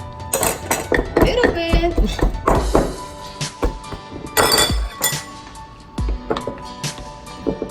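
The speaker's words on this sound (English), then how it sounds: "You just gotta mash them all one by one because it's easier to mash" Plantains for mofongo being mashed one by one with a little garlic, giving repeated close thuds and sharp clinks in an uneven rhythm while a person talks over them.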